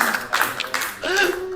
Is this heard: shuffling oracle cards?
no